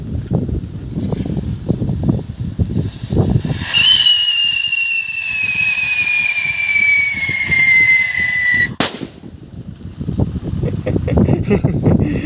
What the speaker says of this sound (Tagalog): Dreamlight whistle bomb.